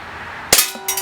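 A KWC Tanfoglio Witness 1911 CO2 BB gun fires and its BB strikes a target, giving a sharp, close metallic clang followed by a second fainter hit, with no talking.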